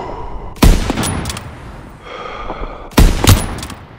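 Two loud, close bursts of rapid gunfire crack out in the Call of Duty WW2 Battle of the Bulge campaign, each followed by a rattling tail and echo over a rumbling battlefield background.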